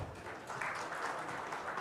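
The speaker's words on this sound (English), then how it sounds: "Can we hear a round of applause?" Audience at a digital transformation conference summit claps in a steady, moderate wash of applause, somewhat distant and diffuse, lasting a couple of seconds.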